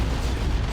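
Explosions from Ork Kommando stick bombs in the strategy game Warhammer 40,000: Dawn of War 2, a dense, loud booming roar of overlapping blasts filling a brief moment, with no voices over it.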